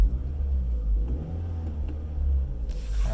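A Scion car engine runs with the throttle response controller switched off, giving a steady low rumble that swells gently in mild revs, close and loud, with no talking.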